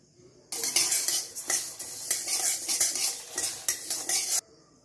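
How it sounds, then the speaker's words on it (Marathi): Urad dal being dry-roasted in a pan over a medium flame and stirred with a utensil, making a close, dry, rattling scrape in quick uneven strokes that start and stop abruptly. "उडदाची डाळ सोनेरी होईपर्यंत भाजून घेऊया."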